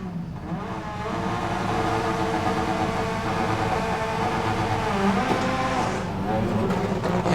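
A Honda rallycross car at a World RX round in Sweden idles roughly on the line with a loud, rattling mechanical clatter, then builds into a harsher rising roar as it launches, with commentators talking over it.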